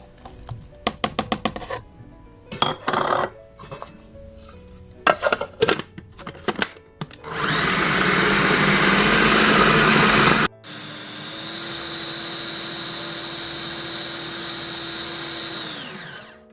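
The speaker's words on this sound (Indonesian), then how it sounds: "Kita aduk dulu, kemudian di blender lagi." An electric kitchen blender whirs steadily as it purées eggs and softened bread for a galantine mixture, running in two long bursts after several clattering knocks and scrapes of preparation.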